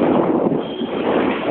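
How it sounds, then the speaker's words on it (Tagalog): Strong wind roars steadily across an open tower top, a loud, continuous broadband rush with no breaks and no talking. "Napalakas ang hangin."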